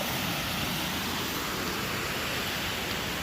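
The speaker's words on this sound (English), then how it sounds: "Look at the beautiful waterfall." A creek waterfall gives a constant broadband rushing roar, close and steady with no pauses or voices.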